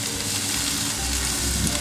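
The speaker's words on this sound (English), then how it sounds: "We're gonna add my red and yellow peppers." Red and yellow peppers sizzling with crispy onions on a Yoder YS640 pellet grill while cooking chicken fajitas: a loud, steady frying hiss with a continuous crackle.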